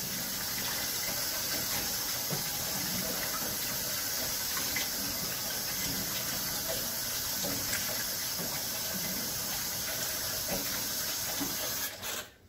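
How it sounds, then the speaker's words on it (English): Tap water runs steadily into one side of a kitchen sink, a constant hissing splash, close and even, cutting off at the end. "I've got water running in the other side of the sink"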